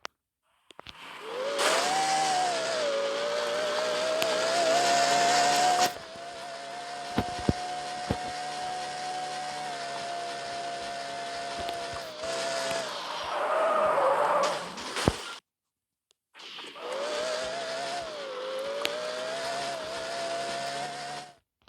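Car engine revving in the video game Demolition Derby 3, a sustained roaring drone that shifts pitch through curves on a highway section of a track, with tire skids and brief drops to near silence between loud stretches.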